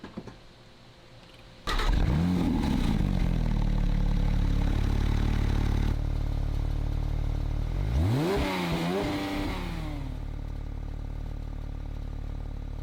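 A 2020 Porsche 911 Speedster cranks and fires after a quiet moment, its engine catching with a loud bark, then settling into a steady idle with a brief rev blip before easing back down.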